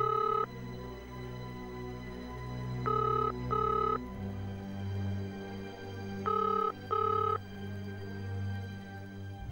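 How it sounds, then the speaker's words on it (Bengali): A telephone rings in a house at night, sounding in repeated bursts of two rings separated by gaps, fairly loud over a low background hum, with no talking. "আবার কার ফোন এলো?"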